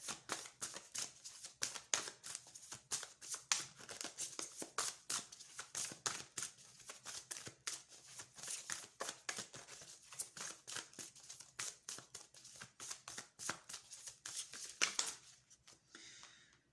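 Tarot cards are shuffled and drawn in a quiet room, a rapid run of crisp riffling flicks and snaps up close, ending with a few softer slides as the shuffle stops.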